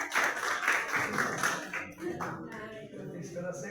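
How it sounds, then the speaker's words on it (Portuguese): Audience clapping and applauding at a live event, a dense burst of claps that thins out over a few seconds, with voices mixed in underneath. "Pode aplaudir, pode aplaudir."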